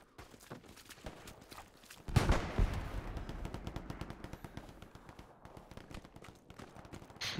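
Gunfire in a video game, scattered sharp reports followed by a loud booming impact that rumbles and fades, with footstep-like taps continuing throughout.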